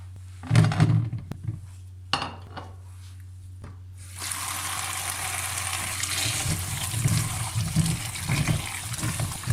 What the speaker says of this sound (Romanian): Acum le spălăm sub un șuvoi de apă.